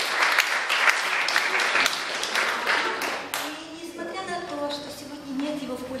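Applause from a concert audience at a humorous song-poetry club evening, a burst of clapping that fades after a few seconds as a voice begins speaking.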